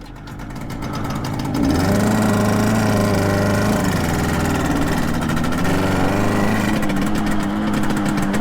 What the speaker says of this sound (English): Bike sounds absolutely beautiful, smells great as well, as you imagine from a two-stroke.